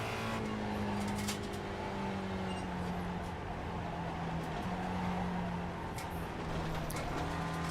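A Mazda MX-5 driving laps at Summit Point race track, its engine holding a steady, droning note with gentle pitch shifts throughout, close and continuous with no voices.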